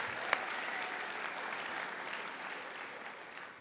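Commencement audience at a University of California campus, UC Merced, claps steadily in a dense, sustained wash of applause across the whole stretch, with one sharper clap standing out near the start.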